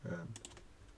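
Several quick, soft keystrokes on a computer keyboard close by, following a brief bit of talk at the start.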